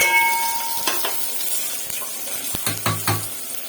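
Dal, greens and prawns frying in hot oil for a prawn thokku with beans and carrot: a steady sizzle with occasional clinks and stirring scrapes of a spoon against the pan.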